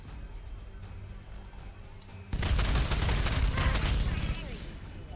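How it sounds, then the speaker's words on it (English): Gunfire in the Warhammer 40,000: Sanctus Reach strategy game erupts halfway through as a dense, loud fusillade of rapid shots, after a quieter stretch of ambient game sound. "We can just head in here and shoot some Gretchen to pieces."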